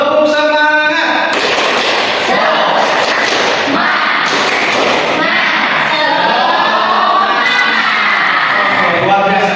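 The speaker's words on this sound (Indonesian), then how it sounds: "Oke, kita tepuk semangat bersama-sama." A classroom of children performs the tepuk semangat spirit clap together, with loud rhythmic group clapping mixed with shouting voices, cheering and thumping, busy and close throughout.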